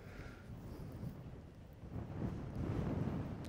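Wind buffets the microphone out on a golf course, a steady low rumble that swells louder toward the end, with no other sounds.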